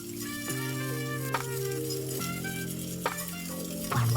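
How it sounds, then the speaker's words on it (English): Brown sugar, maple syrup, vanilla extract and salt being stirred together in a bowl, with soft clinks and scraping of a utensil against the dish under steady background music. "we're going to start with our brown sugar, maple syrup, vanilla extract, and salt, and we're going to give those a good mix"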